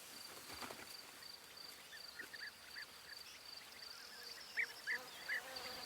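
Soft, steady insect buzzing around vineyard flowers drifts through a quiet outdoor scene, with a few brief, slightly louder buzzes passing close near the end.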